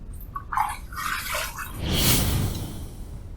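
Water running and splashing from a tap as a razor is rinsed between shaving passes, close by, with a few small clinks and drips before a broader wash of flowing water.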